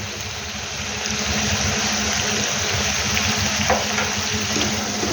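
Mahashol fish with a turmeric, cumin and chilli powder paste fries in a pan, giving a steady, fairly loud sizzling hiss that swells after the first second and holds with no voices.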